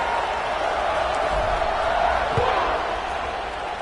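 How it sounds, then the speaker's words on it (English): A stadium crowd in a football video game buzzes with a steady, dense roar that holds at an even loudness throughout, a full wash of many voices with no single cheer standing out. "this crowd is buzzing after that last score"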